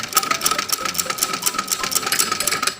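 A sewing machine runs steadily, stitching a line along the pallu of a dupatta for a trendy design, its needle chattering in a fast, even rhythm close to the mic with no talk over it.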